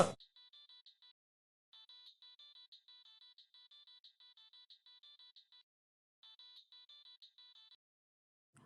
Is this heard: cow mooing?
no